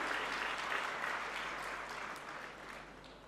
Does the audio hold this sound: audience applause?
yes